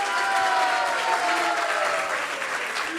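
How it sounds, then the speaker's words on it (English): Steady applause from an audience at a Vaisesika Maharaja Vyas Puja celebration, dense clapping continuing evenly throughout at a moderate distance. "Please give them a big applause."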